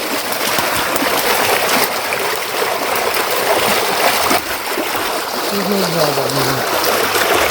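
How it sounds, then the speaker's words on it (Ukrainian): A steady, loud rush of water draining from an artesian well's water tower pours and splashes nearby, with a brief low voice murmuring toward the end. "Зливається водичка ще."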